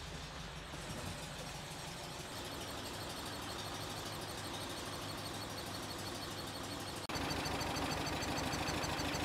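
A warm Porsche 356 engine on Solex 40P11 carburetors idles with a steady, throbbing rumble, alone and up close, then jumps abruptly to a louder, higher idle near the end.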